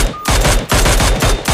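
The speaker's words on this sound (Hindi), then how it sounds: "बट बॉट की फायर आती है" A bot in a battle royale video game fires an automatic weapon: rapid, loud, close-range bursts of gunshots come in quick succession, with brief gaps between bursts.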